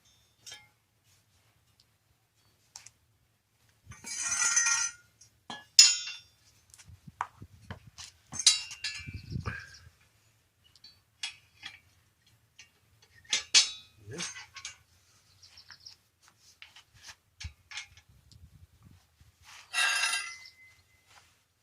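A homemade metal shovel being folded up, giving sharp scattered metallic clinks and clanks in short bursts against near silence, with occasional brief speech.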